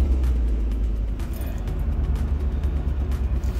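A pickup truck drives along with a deep rumbling engine and road noise heard from inside, steady and close, with faint clicks and knocks over the drone.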